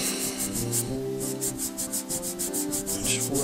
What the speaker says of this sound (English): and just rub it. See, a lot of that powder comes off.